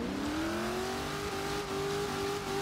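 A Foxbody Mustang in Forza Horizon 3 revving hard as one rear tire spins in a one-wheel peel, the engine tone climbing steadily with a squealing edge, loud and close with no talk.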